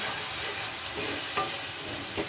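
Masala with cumin powder sizzling in a pan over medium flame for Bengali prawn curry, a dense continuous crackle with a few soft scraping stirs, close and without voices.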